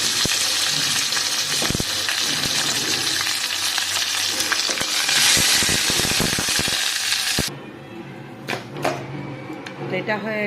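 Mustard seeds hit hot oil already holding dried red chillies and bori, giving a loud, dense, crackling sizzle that suddenly drops to a softer spattering with scattered pops near the end.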